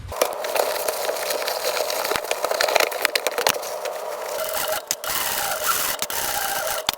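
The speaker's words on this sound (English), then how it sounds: "I'm gonna sew all over the edge." A sewing machine stitches along the lining edge of a tote bag with a fast, continuous mechanical rattle and clatter, close by, with small bumps and pauses as the fabric is guided.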